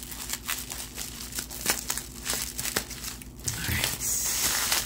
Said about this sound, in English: We also have this little bundle in plastic wrap. Just get this cut open.